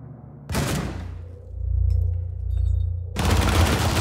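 Video-game gunfire: a short burst of shots, a quieter gap with low rumbling, then another loud stretch of rapid fire.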